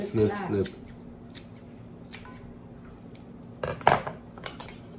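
Scissors snipping during barbering at home, a few short metallic cuts spaced irregularly and fairly close, with a voice speaking briefly at the start and quiet room noise between the snips.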